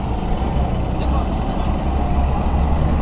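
Heavy road traffic heard from an Indian road beside a Honda Activa 6G scooter, with a bus close alongside, making a steady loud engine rumble and road roar throughout.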